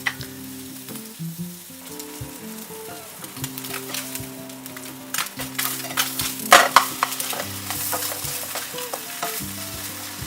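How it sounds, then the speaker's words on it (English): Spam slices browning in a hot skillet for breakfast musubi, a steady close sizzle and crackle of frying with occasional louder pops and spatter near the middle, no voices. "I already started the skillet and now I'm adding the spam to brown each side"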